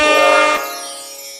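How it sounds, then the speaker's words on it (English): An air horn sound effect blasts loud and sustained for about half a second, then cuts off into a fading tail that rings on for another second with no voices. "That's an air horn."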